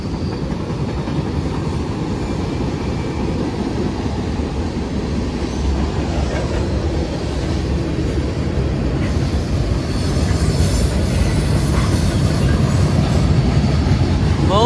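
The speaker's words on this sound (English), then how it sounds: "Pretty big train." A long CSX freight train hauling grain cars rolls steadily past nearby, with a continuous loud rumble and clickety-clack of wheels on rail.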